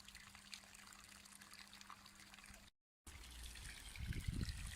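Water runs along a freshly dug garden stream bed, a steady, quiet trickle and splash that briefly cuts out, then returns and swells louder toward the end.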